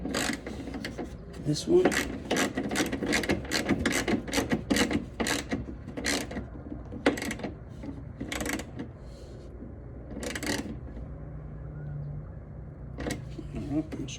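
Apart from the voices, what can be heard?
tightening a bolt with a ratchet on a Dodge Challenger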